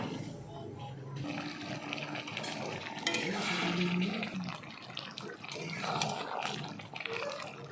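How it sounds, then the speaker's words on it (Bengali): Mutton is stir-fried in hot spiced oil in a pan, giving a continuous close sizzle with scraping and stirring throughout and a soft voice in the background. "মাংসটাকে একটু কষবো ভালো করে, তারপর জল দেবো।"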